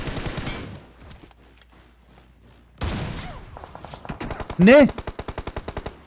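Rapid automatic gunfire from a Turkish-language online shooter game, sharp repeated bursts in quick rhythm with a loud explosive crack near the end, mixed with brief excited talk from players.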